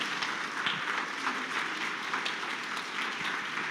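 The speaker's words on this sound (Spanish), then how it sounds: "Denle un aplauso fuerte al Señor." A church congregation applauds in Mexico City, a steady, moderately distant wash of many hands clapping that holds evenly for several seconds without voices.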